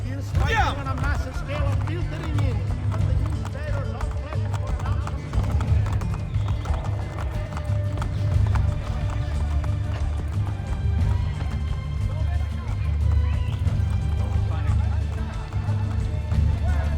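A horse in the video game Assassin's Creed: Brotherhood whinnies near the start, then its hooves clip-clop steadily at a run. Game ambience sits underneath and someone talks over the hoofbeats.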